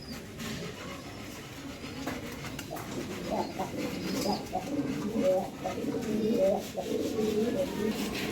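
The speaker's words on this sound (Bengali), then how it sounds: "এই যে এইগুলো হলো আমার কবুতর" Domestic pigeons kept in a tree loft coo in soft, repeated, low warbling calls nearby, with faint background noise around them.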